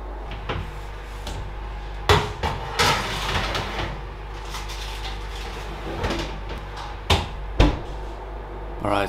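Pizza going into the oven, with an oven door opening and closing in a few knocking clunks and thuds over a low, steady background hum.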